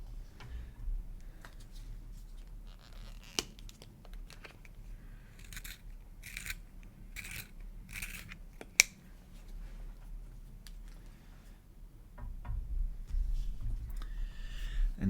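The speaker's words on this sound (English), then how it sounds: "I'm gonna resharpen my pencil for the teeth" A colored pencil is sharpened up close: a series of short, evenly spaced scraping turns in a quiet room, bracketed by a few sharp clicks and soft handling noises.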